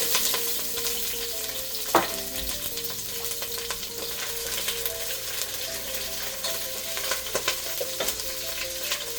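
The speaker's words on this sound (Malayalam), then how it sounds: "ചട്ടി ചൂടായി വന്നു കഴിയുമ്പോഴത്തേനും നമ്മുടെ കറിവേപ്പില ഇട്ട് കൊടുക്കുക." Curry leaves and two chopped green chillies hit a hot pan for a chicken curry, crackling in a loud, dense sizzle that stays steady throughout, with a sharp burst near the start and scattered spatters.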